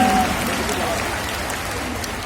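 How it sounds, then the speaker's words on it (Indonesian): An audience applauds Anies Baswedan, a dense, steady wash of clapping heard at a distance that holds evenly throughout and fades slightly toward the end. "tepuk tangan untuk Mas Anies Baswedan"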